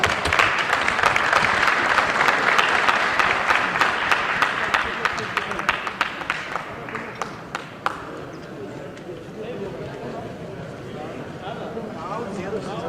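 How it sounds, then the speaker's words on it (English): A workshop group breaks into loud, sustained applause that thins into scattered claps and dies out about two-thirds of the way through, leaving quieter room murmur. "Give yourselves a round of applause."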